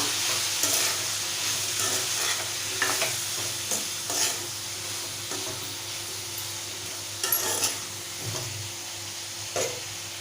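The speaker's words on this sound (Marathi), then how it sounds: "आता चवीनुसार मीठ घालूया परतून घेऊया" Drumstick, brinjal and potato curry pieces sautéed with salt in a pan give a steady close sizzle, with intermittent scraping stirs of a spoon against the pan every couple of seconds.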